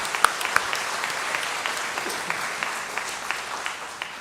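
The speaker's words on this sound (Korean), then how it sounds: "감사의 마음을 담아서 우리 한성자 권사님께 박수하겠습니다." A church congregation applauds during a Sunday worship service, a steady patter of clapping with a few louder, sharper claps standing out near the start.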